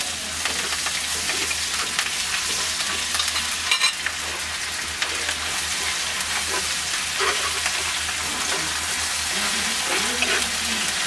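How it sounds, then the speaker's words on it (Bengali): Garlic, ginger and cumin paste frying in a pan while being stirred: a dense, loud, steady sizzle with occasional soft scraping of the spoon, and no voices. "আদা জিরাটাও 1 টেবিল চামচের মতো আমি একটু নেড়ে দিচ্ছি।"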